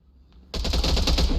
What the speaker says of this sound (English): He's gonna use the cannons, is he?